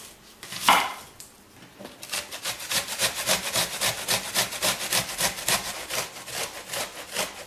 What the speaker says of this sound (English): So it grates the onion into a perfect puree.